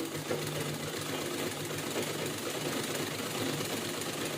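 A household sewing machine runs steadily, stitching cloth with a continuous fast mechanical whir that holds at an even level throughout.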